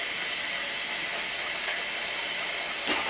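Coconut rice sauce with vegetables boiling in a pot on the stove, a steady, close, hissing bubbling that continues without a break and carries no speech.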